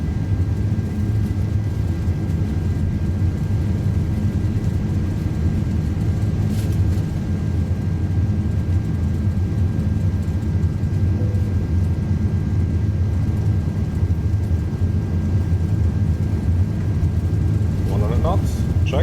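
A KLM Airbus A330 in a flight simulator game with engines at takeoff thrust gives a steady, loud low roar and whine, unbroken throughout, with a brief faint click near the end.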